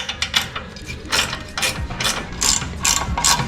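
A ratchet tightens exhaust fasteners on an Indian Scout motorcycle bobber build, giving repeated close, crisp bursts of clicking pawl strokes with short pauses between pulls.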